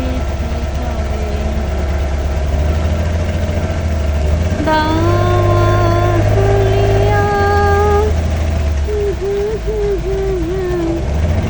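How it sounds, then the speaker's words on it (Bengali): A speedboat engine drones loud and steady on Koggala Lake in Sri Lanka, and a high, wavering melodic tone rises over the rumble partway through. "আমরা এখন স্পিড বোটের মাধ্যমে বোটিং করছি"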